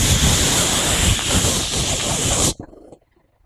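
A voice imitates a garden hose spraying with a loud, steady hissing shush that runs for about two and a half seconds and then cuts off abruptly into near silence.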